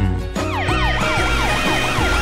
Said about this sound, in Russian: Мэтт, Фрэнк, включайте-ка свои сирены, чтобы все поскорее уехали отсюда